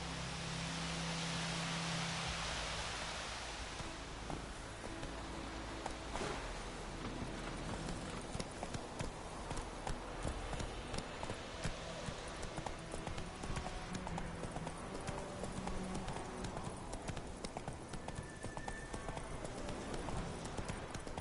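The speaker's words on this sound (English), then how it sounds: "Calling my horse." Horse hooves clip-clopping in The Witcher video game, a steady rhythmic trot of hoofbeats on ground that starts after a brief ambient opening and continues for the rest of the stretch over faint background noise.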